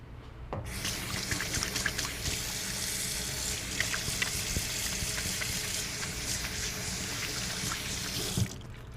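Tap water runs steadily into a kitchen sink for a hand wash between cooking steps, a continuous rushing hiss starting abruptly and cutting off near the end, with no talking.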